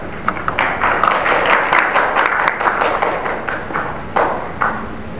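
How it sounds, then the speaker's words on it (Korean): Sustained applause from an audience at a Korean public agency meeting on game regulation, welcoming a presenter with steady, dense clapping and a few louder bursts. "큰 박수로 청해드리겠습니다."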